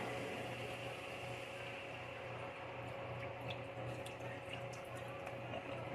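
Chicken broth poured into a pan for a Boursin cheese chicken dish, a steady, continuous liquid rush that stays even and fairly close throughout, with no talking over it.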